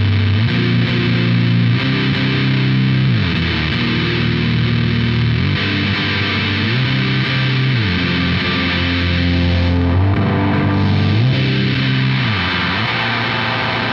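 Electric guitar chords played through a Big Muff style fuzz pedal sound loud and dense, with heavily saturated, buzzing sustain and steady chord changes. No voices over the playing.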